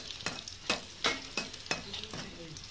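Green chillies and onion fry in hot oil for a Bengali kachki fish chorchori, a steady sizzle broken by about six rhythmic scraping stirs of a spatula in the pan, with no talk.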